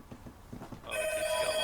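A phone rings with an incoming call during a live gaming stream, a bright repeating electronic ring starting midway and rising over faint background sound.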